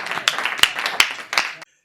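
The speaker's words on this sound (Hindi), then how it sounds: "जोरदार तालियां बजाकर बाराबंकी से पधारे भाई अजय प्रधान को आमंत्रित करिए।" Close, uneven clapping from a Hindi comedy poetry gathering, a few loud individual claps standing out over a smaller ragged patter before it cuts off abruptly.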